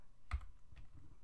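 A few quiet, close keystrokes on a computer keyboard, isolated clicks with short gaps and no talking.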